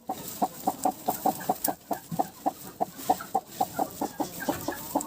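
A broody hen lifted off a clutch of fifteen turkey eggs clucks in a steady rhythmic series of short, close, moderately loud calls, with no talk over it.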